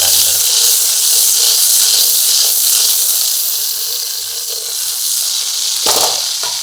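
Mutton fat and onion frying together in oil, a loud, steady broadband sizzle that holds throughout, with a brief louder crackle near the end.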